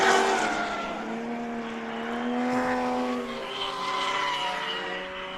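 Drift race cars slide around the track at Palm Beach International Raceway, tires squealing and engines roaring at high revs. The noise swells and fades as cars sweep past, with sustained tire screech and engine harmonics, some distance from the listener.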